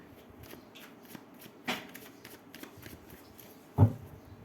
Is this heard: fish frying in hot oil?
no